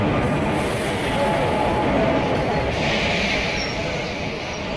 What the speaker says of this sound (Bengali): তো 3 নম্বর প্ল্যাটফর্মে আসছে ধনধান্য এক্সপ্রেস।